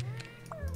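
A short cat meow from a cat puzzle video game, faint and brief, over quiet game audio.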